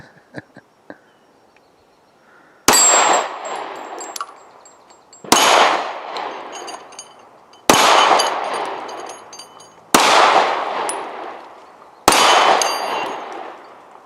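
Five sharp Glock 43X pistol shots fire at slow, even intervals, each followed by a bright metallic clang and ring from a struck steel target, with quiet pauses between them.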